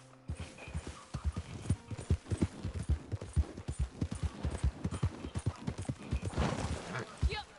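A horse in the video game Red Dead Redemption 2 clip-clops in a rapid, steady gallop of close hoofbeats, with occasional neighing and someone talking over the hooves.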